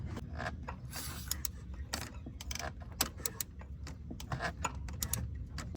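A hand ratchet loosens a spark plug on a Honda Pilot, a faint run of quick clicking pawl ticks close by, steady and repetitive over low background noise.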